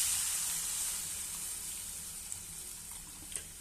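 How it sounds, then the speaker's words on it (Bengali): Water hits sautéed vegetables in a hot pan for a curry, a loud broad hiss that bursts up at once and slowly fades, with a few small pops near the end, close and with no talking. "এবার এতে একটু জল ঢেলে দিব"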